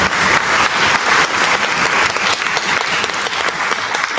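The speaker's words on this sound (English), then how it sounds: "let's give a round of applause to Haley" Audience applause at a school symphonette concert, a dense steady wash of clapping from a full room, continuous and fairly loud throughout.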